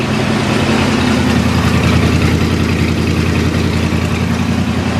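An LTD car engine idles just after transmission maintenance, giving a loud, steady, close rumble that holds even for the whole stretch without revving or talk.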